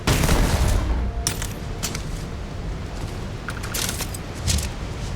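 Gunfire from a heavy weapon in a video game: loud bursts of sharp cracks and rapid shots with booming low rumble and mechanical clatter, clustered in several volleys.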